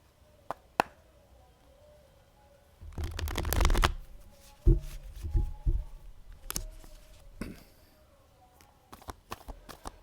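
Tarot cards being shuffled close by in a quiet room: a dense burst of riffling and flicking, followed by scattered soft taps and card clicks, then a few light snaps near the end.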